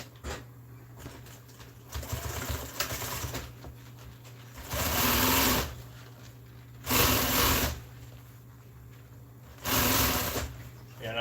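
Sewing machine stitching RV seat upholstery in bursts of a second or so, loud and steady while running, with a low hum and shuffling handling of fabric between runs.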